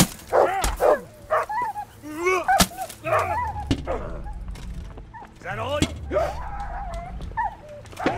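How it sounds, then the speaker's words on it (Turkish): In Kingdom Come: Deliverance, a dog barks and yips in short scattered bursts, some whimpering, while someone talks over it. "Bizim köpeğe bak."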